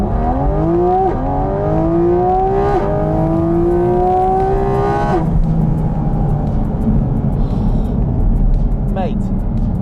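Porsche GT4 RS flat-six engine revving up through the rev range in repeated climbing pulls with gear changes, loud and close from inside the car, then easing down to a lower drone, with people talking.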